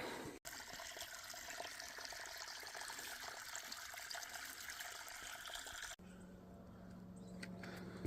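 Water from a pump pours into a gold prospecting hole in a creek area, a steady close gushing and trickling that cuts out abruptly and then turns into a quieter, thinner flow, with no talking.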